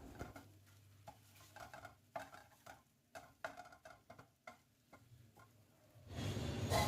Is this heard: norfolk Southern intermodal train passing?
no